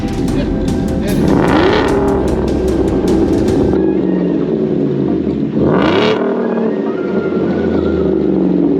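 A 775 HP 2021 Ford F-150 pickup with a Whipple supercharger revs hard nearby, climbing and falling in pitch with a throaty growl and supercharger whine, a few bursts of rising throttle.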